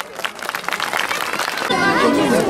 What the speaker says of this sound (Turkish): Çocukları bir alkışlayalım.